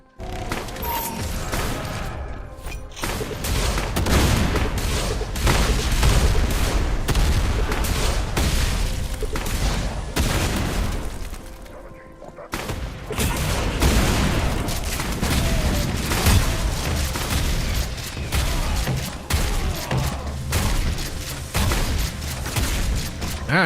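Relentless gunfire from a modded Doom shooter, dense rapid bursts and booming blasts packed together almost nonstop, with one brief lull midway before the barrage resumes.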